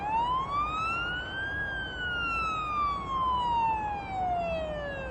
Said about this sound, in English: Use the siren as needed.